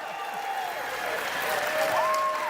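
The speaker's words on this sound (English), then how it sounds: "One more round of applause." Applause from a crowd at a Marvel's Wolverine video game panel in San Diego swells steadily over a couple of seconds, with some faint voices and whistle-like tones mixed in.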